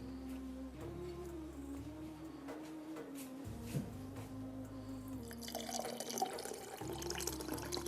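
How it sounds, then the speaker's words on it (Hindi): Water poured into a glass of Rooh Afza rose syrup drink, a steady liquid splash that continues under a background of music. "यहाँ पर हम इसमें डालेंगे पानी"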